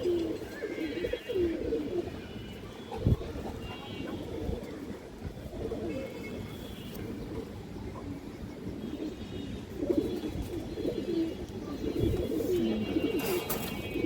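A male and female pigeon pair, red-marked fancy birds, coo in soft repeated low calls close by, steady against a busy background hum.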